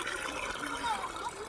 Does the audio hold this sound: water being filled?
yes